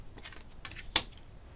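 Cards being shuffled for a soul travel tarot reading, soft riffling taps followed by one sharp snap of the deck, brief and close.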